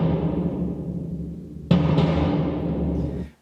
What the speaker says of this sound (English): So I have this bass drum that I've loaded in.